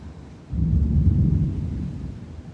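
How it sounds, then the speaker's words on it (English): Low rolling thunder from a storm approaching a beach, a deep distant rumble that swells suddenly and then lingers and slowly fades, with no voices over it. "This storm is like just a little bit coming in from the northwest."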